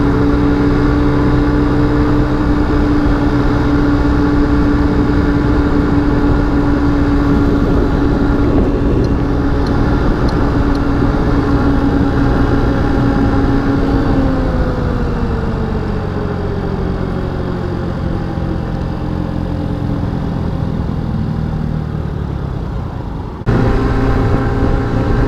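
A Honda Ruckus scooter engine running on premium gas drones loudly and steadily up close throughout, its pitch holding and then sliding lower as the revs ease, with a brief dip near the end.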